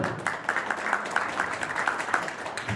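A live audience claps for Real Madrid fans at a comedy show. The claps come moderately loud and fairly even, with a few sharper hits, and no talk over them.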